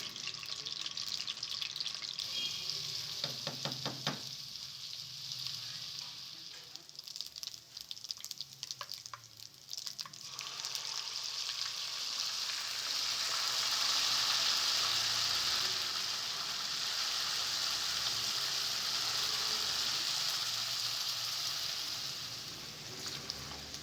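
Continuous soft sizzling of mustard greens (sarson ka saag) frying in hot oil, with a few clinks and stirring sounds early on; steady and fairly quiet throughout.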